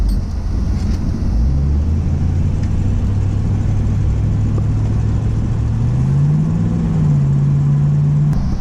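Loud, close 1985 Mustang LX 5.0 V8 engine rumbling with a deep exhaust note, revving up and rising in pitch before settling, continuous throughout.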